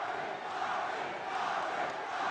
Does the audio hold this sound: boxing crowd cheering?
yes